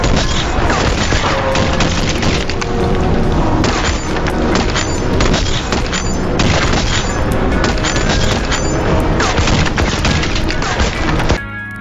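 Loud, relentless gunfire and explosive booms from a police shootout in a TV drama crackle continuously in a dense, chaotic barrage before cutting off abruptly at the end.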